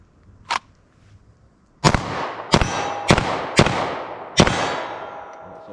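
Five rapid 9mm pistol shots ring out as sharp, loud cracks with echoing tails, fired in quick succession after a faint earlier pop.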